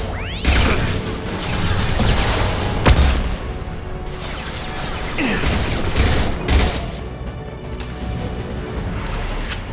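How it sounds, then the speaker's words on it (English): A flashbang bursts in the Mass Effect 2 Legendary Edition game during a firefight, with a loud crash and whoosh. Further impacts and shots follow at intervals over a dense background of game noise. "Watch out, flashbang!"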